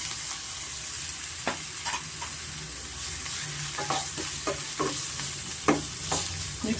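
Chopped onions fry in hot oil for a spicy chicken keema, stirred in a pan with fenugreek leaves: a steady sizzle runs throughout, broken by repeated sharp scrapes and clatters of the spoon against the pan.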